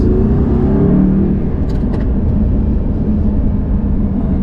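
A car with a manual gearbox that needs double clutching cruises through city streets, its engine a loud, steady low drone and rumble heard close from inside the cabin, with no voices.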